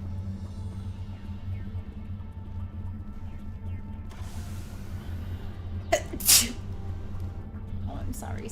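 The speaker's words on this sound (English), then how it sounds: "I didn't mean for my sneeze to scare you." Someone sneezes once sharply in a room, a short loud burst standing out over low steady background hum and quiet game sounds, followed by faint murmuring.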